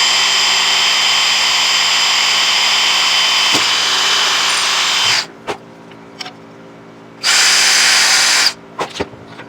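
A power drill bores a hole through plastic on a quarantine tank setup, a loud sustained whine for several seconds, then a pause with a few clicks before a second short burst of drilling.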